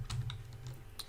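Keys clack on a computer keyboard as a Linux shell command is typed: a handful of quiet, separate keystrokes spaced unevenly over about a second, with no talking.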